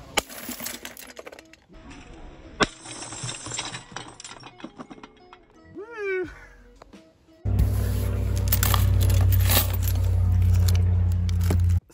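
A coin-filled money box weighing about 2.8 kilograms is smashed, giving scattered sharp knocks and clinks. A loud, dense crash and rattle of coins follows and carries on to the end.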